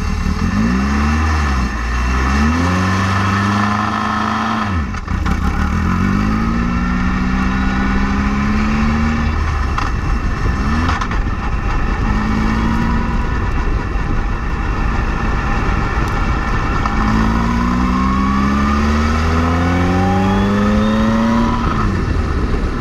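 A formula race car at Senica airfield starts and revs, its engine barking up and down in repeated rising throttle blips over a rough idle, loud and close, with a brief cut near the start.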